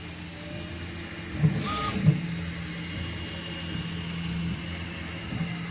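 A Prusa i3 MK3S 3D printer runs mid-print with a low steady motor hum, sweeping stepper whines and a couple of short sharp clicks, heard close and fairly quiet without speech.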